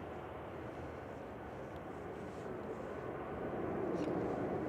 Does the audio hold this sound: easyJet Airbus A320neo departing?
yes